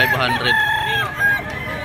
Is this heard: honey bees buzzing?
no